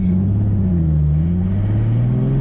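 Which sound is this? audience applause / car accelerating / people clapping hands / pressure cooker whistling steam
car accelerating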